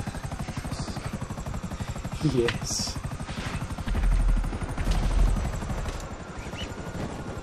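A helicopter in GTA 5 drones steadily with its rotor chop throughout, loud and close, with brief talk over it.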